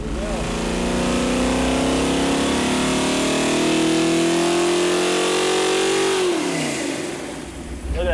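Ford 347 small block V8 in a Mustang track car build, revving hard on a dyno: a loud steadily climbing engine howl held high for several seconds, then a sharp drop back toward idle, with voices faintly underneath.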